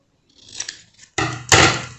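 Scissors snipping through a paper dress pattern, with a light opening rustle followed by two loud, close cutting strokes heard alone.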